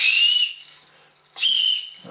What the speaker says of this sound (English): A P-style whistle.